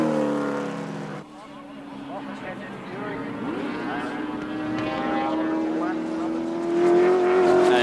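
1983 touring cars racing at Wanneroo, led by a Holden Commodore, roaring past up close with a steady, rising engine drone over the whole stretch, under continuous race commentary.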